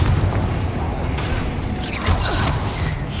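A Bombarda spell explodes in the video game Hogwarts Legacy, a booming burst with creaking, mechanical rumble among busy combat sounds, followed by a second swell of impact noise.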